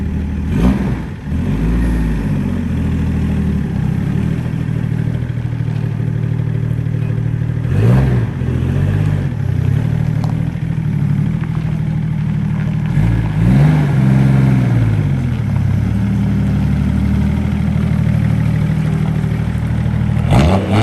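A Mercedes 300D W124 diesel idles close and loud with a steady low clattering rumble, gently swelling in a few spots, with no talk over it.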